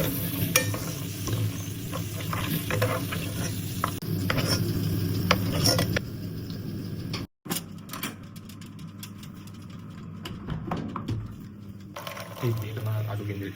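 Cashews frying gently in a little oil over low heat, a soft continuous sizzle with repeated scraping and stirring clinks from a utensil against the pan, close by, broken by a brief cut partway through.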